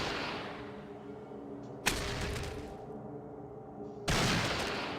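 Gunfire in turn-based combat from Fallout 1, two distinct loud bursts of shots a couple of seconds apart, each cutting abruptly over a low steady background hum.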